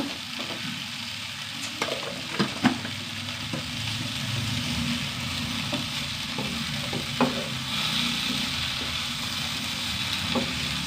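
A vegetable stir-fry being salted and frying in a pan, a constant close sizzle with intermittent scraping and tapping of the stirring spoon, no voices over it.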